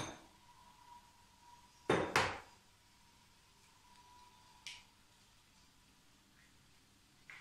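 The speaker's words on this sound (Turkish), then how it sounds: "Şimdi içerisine yumurtasını kırıyorum." Eggs are cracked into a pan of fried onions: two sharp taps in quick succession stand out over a quiet kitchen background, followed by a softer clink a few seconds later.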